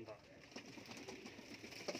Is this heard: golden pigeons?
yes